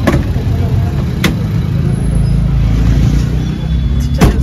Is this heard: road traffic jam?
yes